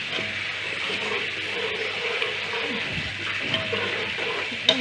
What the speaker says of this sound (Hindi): ये देखें अब पानी उबलना शुरू हो गया,